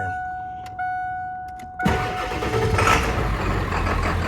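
A 1996 Ford F250 crew cab with a 7.3 Powerstroke diesel: a steady glow-plug chime tone with faint clicks, then the engine catches and cranks into a loud, rough, rattling idle that carries on to the end.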